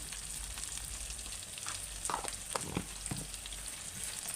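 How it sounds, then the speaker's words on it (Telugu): Tomato fries in oil with a pinch of turmeric, a faint, even sizzle with a few soft stirring knocks near the middle and no voices. "టమాటో ఆయిల్లో వేసుకున్న తర్వాత కొద్దిగా పసుపు"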